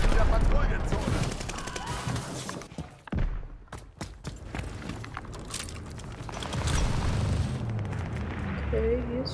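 Bomb blasts and gunfire roar through a Call of Duty: Vanguard multiplayer match, a dense, loud barrage of booming explosions and crackling shots that keeps rolling throughout, with a player talking over the chaos.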